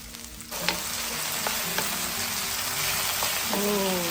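Button mushrooms brown in hot oil in a pan, giving a loud, steady sizzle that swells after a brief quieter start, with a few soft clicks of stirring and no talk.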